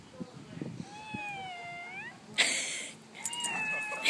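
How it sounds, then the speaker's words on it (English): A cat meows several times, giving drawn-out, rising and falling cries close by, with brief bursts of a person talking and noise in between. "Meow like a cat."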